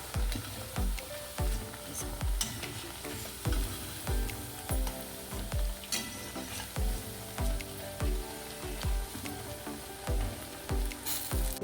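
A rainy-season snack fries in hot oil, a continuous close sizzle broken by regular rhythmic scraping strokes as the pieces are turned and cooked on the other side.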